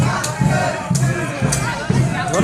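A BNP political procession crowd in Dangdhara Union, Bangladesh, chants in a steady rhythmic call, voices rising and falling in repeated pulses about every half second, loud and close, with someone talking over the chanting.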